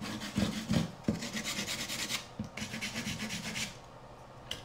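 A nail file rubs and rasps across carbon fiber in short back-and-forth strokes, a few sharp scrapes at first and then steady, close-up grinding that fades near the end.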